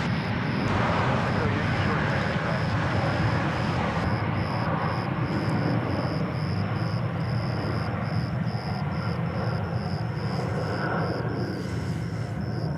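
A plane departs DFW Airport as a broad, steady jet roar that rumbles on without break under light talk.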